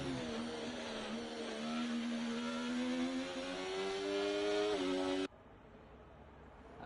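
A Ferrari race car engine in a racing video game holds a steady high whine that climbs gradually in pitch through the gears, then cuts off abruptly, leaving faint background noise.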